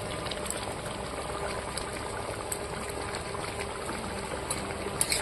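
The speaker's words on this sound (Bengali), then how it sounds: "এই যে এই ফোড়টা উঠলে পরেই বোঝা যায় যে মাংসটা রান্না কমপ্লিট হয়ে গেছে" Partridge meat curry boiling in a pot, a steady dense bubbling and simmering with faint pops, close and continuous, no talk.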